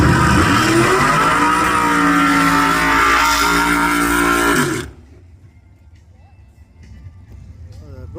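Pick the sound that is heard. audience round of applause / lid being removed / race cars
race cars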